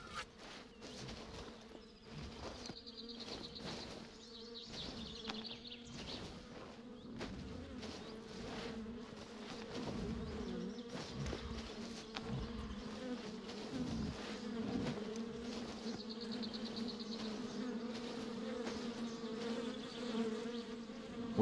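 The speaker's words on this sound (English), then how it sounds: "I hear bees." Bees buzzing in the video game The Vale, a soft steady drone heard alone throughout, with faint scattered footsteps and clicks mixed in.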